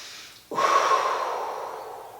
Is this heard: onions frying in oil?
no